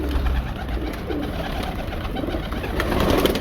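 Low, soft cooing from a pair of domestic pigeons repeats in a steady murmur close by, with faint background hiss and no talking.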